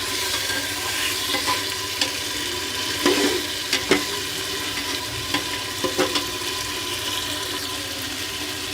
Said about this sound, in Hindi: अब हम इसमें डालेंगे अपने आलू कटे हुए।